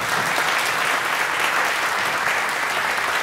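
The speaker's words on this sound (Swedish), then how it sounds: "En applåd." Dense, steady applause from a concert audience at a graduation recital, loud and continuous with no pauses.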